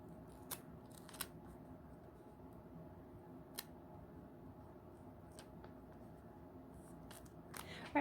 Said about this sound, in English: let me use the scissors. Cut the tape off a minute.